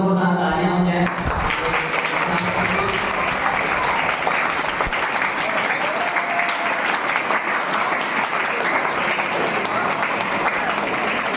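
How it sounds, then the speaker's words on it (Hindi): Loud, sustained applause from an audience at a Labour Day speech, starting right after a brief voice and continuing as a dense, even roar of clapping hands for over ten seconds. "एक बार मैं चाहूंगा जोरदार तालियां हो जाए"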